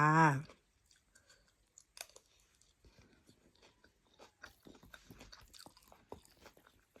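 Soft, close chewing and crunchy biting at a home meal of rice and fish, irregular small clicks and munches after a brief murmured voice at the start.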